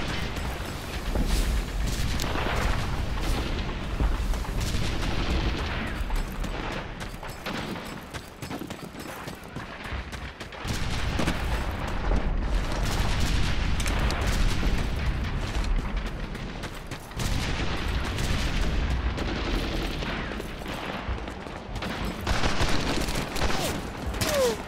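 Artillery fire in the video game Medal of Honor: Airborne rumbles as a dense, continuous barrage of booms and crackling blasts, loud and sustained with brief dips in intensity.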